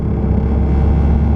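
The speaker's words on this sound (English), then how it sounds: "You guys hear that vibration in the back?" Low, steady rumbling drone with a buzzing vibration from the rear body panels of a Volkswagen MK6 Golf R with a big turbo, running at around 2200 rpm, continuous and fairly loud with no talk.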